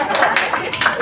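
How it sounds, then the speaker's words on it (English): Audience clapping for panelists at a women entrepreneurs' awards expo and conclave, a brief, dense burst of applause from a nearby crowd. "Big round of applause to encourage our esteemed panelists."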